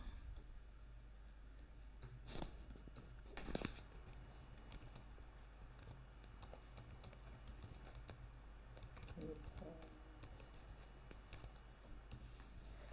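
An email address and password typed on a computer keyboard in an online application form: sparse, faint keystrokes and clicks spread over several seconds, a couple of sharper taps standing out, no speech.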